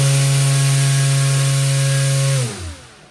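A small RC electric motor spins an 8.5-inch four-blade folding propeller on a thrust test stand, giving a loud, steady high-pitched whine that abruptly winds down and fades as the motor stops near the end.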